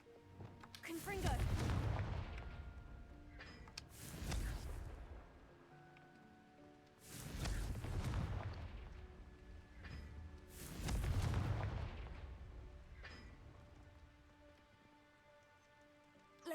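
Fire spell explosions from the Hogwarts Legacy video game burst in four heavy booming blasts, each followed by a crackling fiery tail and a ringing musical score, loud and close.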